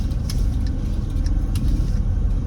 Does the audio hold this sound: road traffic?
yes